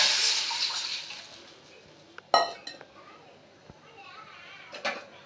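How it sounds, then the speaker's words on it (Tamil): Tamarind water poured into a hot tempering of fenugreek seeds, fenugreek powder and dried red chilies for coconut milk rasam: a hissing sizzle up close that fades, followed by sharp clinks of metal utensils and pans. "அது பொரிஞ்ச நாளைக்கு புளி தண்ணி ஊற்றிக்கணும்."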